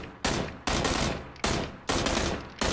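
Gunfire in PUBG, four loud bursts of rapid shots from a suppressed rifle, each a dense automatic volley separated by brief pauses, close and alone without talk.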